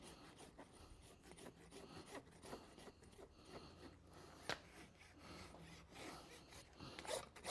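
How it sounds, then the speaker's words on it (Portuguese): A farrier's rasp filing the wall of a horse's hoof in repeated scraping strokes, close but quiet, with a few sharper scrapes and no speech. "quando a gente grosa a parede, além de alinhar a parede do casco"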